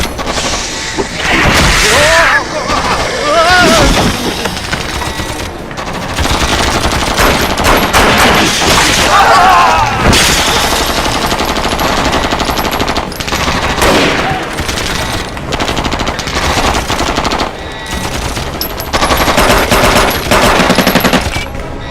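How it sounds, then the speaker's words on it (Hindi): Dense automatic gunfire and explosions from an action movie scene, loud and sustained for the whole stretch with rapid bursts, booms and crashes, and faint voices mixed into the barrage. "इतनी गोलियां चलाई फिर भी उस पर असर नहीं हो रहा।"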